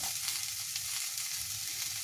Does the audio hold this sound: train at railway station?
no